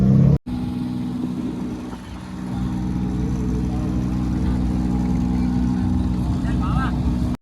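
Steady low motor drone of a boat engine heard from aboard a boat on the water in Hoi An, Vietnam, continuous and fairly loud after a brief cut near the start, with faint voices mixed in.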